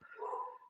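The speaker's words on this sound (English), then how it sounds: "My apologies if you can hear my dog barking in the background." A dog in the background of a home gives a single faint, brief whining yelp, distant and quiet.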